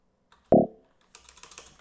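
A single sharp keystroke on a computer keyboard during a blindfold chess game, followed by a quick, faint flurry of lighter clicks, close to the microphone with no talking.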